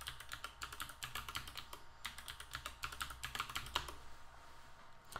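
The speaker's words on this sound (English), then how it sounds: "So you have to type in your current password, as well as a new password." A password is typed on a computer keyboard during Raspberry Pi 4 server setup, a quiet run of rapid, uneven clicking keystrokes in short bursts with brief pauses, close by and without talk.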